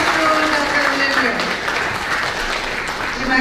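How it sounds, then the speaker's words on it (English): Workshop audience breaks into applause for a speaker, a broad, continuous patter of clapping that stays fairly even throughout, with a voice talking over it. "Let's give a big applause to Dr. Lember."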